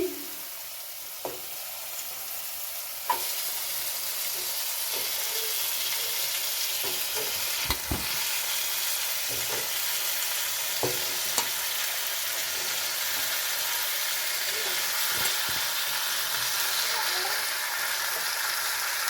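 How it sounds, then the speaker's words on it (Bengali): Kidney beans (rajma) sauté in a pan with a steady, fairly soft sizzle, while occasional scrapes and taps of a stirring spoon sound against the pan throughout. "ভালো করে আমি কষিয়ে নেবো রাজমাটাকে"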